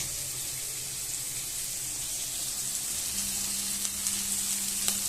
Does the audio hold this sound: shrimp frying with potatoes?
yes